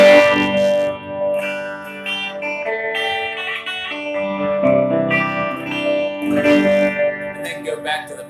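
Guitar strummed with a Dava pick, bright chords ringing steadily and fairly loud for about eight seconds with repeated strums and sustained harmonic tones, no talking.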